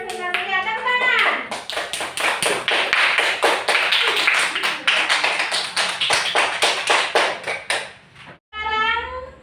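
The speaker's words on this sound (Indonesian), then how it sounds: "Ya, tepuk tangan." Classroom clapping for student groups who have just finished presenting, a dense run of quick hand claps from many children filling the room, with brief voices at the start and a voice returning just after the clapping stops.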